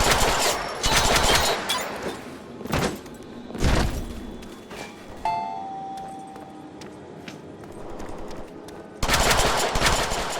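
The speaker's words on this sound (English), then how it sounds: "You see, I set my gun to perforate." A gun in the Deadpool video game fires in several loud bursts of rapid shots separated by quieter stretches, with a final sustained volley at the end.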